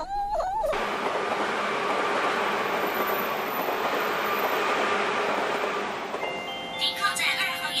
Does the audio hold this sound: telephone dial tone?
no